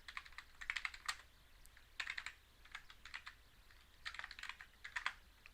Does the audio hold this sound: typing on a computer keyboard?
yes